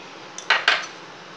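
A spoon stirs paruppu halwa with ghee in a metal pan over a low flame, giving two quick, close clinks against the pan over a faint background, with no voices.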